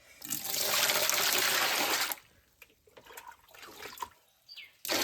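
A mug of water poured into a bucket while preparing rubber sheets: a two-second gushing splash, followed by faint trickles and scattered drips, close by.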